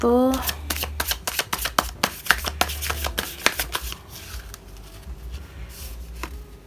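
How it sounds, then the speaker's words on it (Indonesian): Tarot cards are shuffled and handled during a card reading, with a rapid run of crisp flicks and snaps that gradually settles into softer, sparser handling noises, close to the listener. "3 kartu terakhir aku akan buka."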